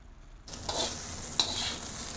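Veg fried rice tossed and stir-fried quickly in a hot wok for restaurant-style Indo-Chinese street food, a steady bright sizzle starting abruptly with scraping stirs and a sharp clink of a utensil partway through.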